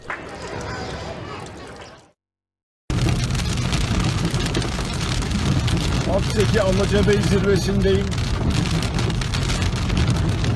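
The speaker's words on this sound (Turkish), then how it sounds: "Çok güzel bir yağmur yağıyor." Someone speaks briefly in Turkish, the sound cuts out for a moment, then a steady, dense hiss of heavy rainfall over Manavgat, Turkey, during a forest fire, fills the rest.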